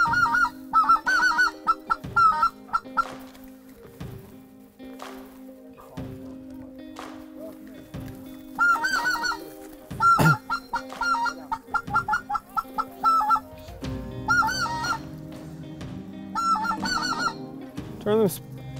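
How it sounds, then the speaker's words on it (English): A low-flying flock of geese honks loudly and continuously on a hunt with ducks nearby, the calls overlapping in dense bursts close to the listener, with occasional voices heard between them. "We want to work this low flock of geese balling up."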